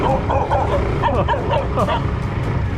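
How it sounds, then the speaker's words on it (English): Dog barking on a rural road in Vietnam at night, short yips and barks repeating over a steady scooter engine rumble. "Okay, so the dog is following us."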